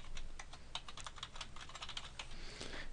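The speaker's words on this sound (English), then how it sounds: "The last thing you want to do is type in your Desire2Learn username and password" Login details tapped out on a computer keyboard, a quick run of light clicky keystrokes, close and fairly quiet, with no voice over them.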